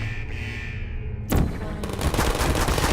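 Turrets firing in the video game Portal: a low hum gives way to sudden loud, rapid automatic gunfire that rattles on continuously and close.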